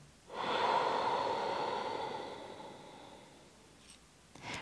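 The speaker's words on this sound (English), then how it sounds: "And now exhale." A long, audible exhale during a breathing exercise, rising quickly then slowly fading over about three seconds, close and breathy, followed by faint small sounds.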